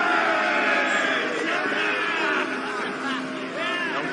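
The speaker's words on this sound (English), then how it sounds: "Don't cheer too loud." Crowd cheering and shouting together, a loud continuous roar of many voices with some yells rising above the mass.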